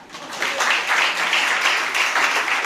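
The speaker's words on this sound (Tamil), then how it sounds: "கைத்தட்ட மாட்டீங்களா?" Audience applause at a church ministry's anniversary gathering, a dense sustained clapping that swells in and holds steady for the full stretch without talk.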